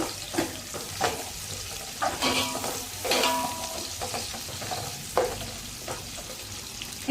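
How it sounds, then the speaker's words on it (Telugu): Thinly sliced onions frying in a pan for chicken fry, a soft continuous sizzle broken by repeated scraping stirs of a spoon against the pan, no voices. "కొద్దిగా దూరగా వేగనివ్వండి"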